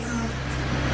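A car engine revs in a steady, close, dense roar that runs without a break for about a second, with no speech over it.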